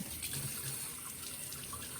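Running water rinses water-soluble ink off a delicate print block, a steady splashing gush like a tap flowing continuously and close by, with no speech.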